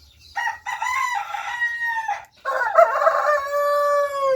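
Mixed breed Brahma chickens crowing and clucking up close, two long harmonic calls separated by a brief pause, with no talk over them.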